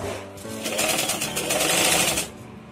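A sewing machine stitches outer and inner cloth layers together. It runs in a steady, rapid rhythm for about two seconds, close and fairly loud, with no talk.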